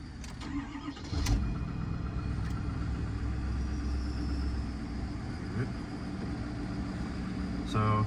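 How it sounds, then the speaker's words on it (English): A truck engine cranks and catches inside the cab, a short starter burst followed by a steady mid-pitched idle rumble, with a brief mechanical clunk near the end. "I can start this truck."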